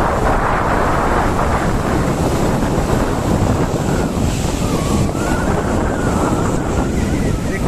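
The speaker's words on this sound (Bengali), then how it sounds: "দেখতে পাচ্ছ কত জোরে জোরে ঢেউগুলো আসছে।" Strong evening waves at Digha beach roll in with a loud, continuous roar of surf and wind noise, with faint voices in the background.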